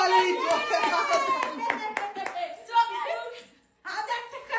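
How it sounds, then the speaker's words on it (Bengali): A crowd claps loudly for the winner of a fill-the-cup challenge game, with sharp claps mixed with voices talking and some laughter, then a brief pause before the clapping resumes. "জোরে হাততালি"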